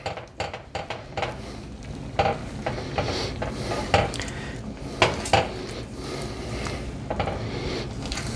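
Sausage gravy is stirred in a metal pan, a spoon scraping and clanking against the sides in a busy, irregular rhythm of close clinks and scrapes, with no talking.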